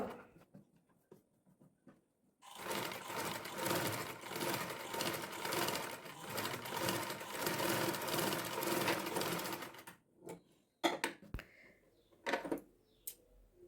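A sewing machine stitches a fabric neckline in one steady, close, buzzing run of about seven seconds, then stops, leaving a few clicks and handling sounds.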